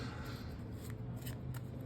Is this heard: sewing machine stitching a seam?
no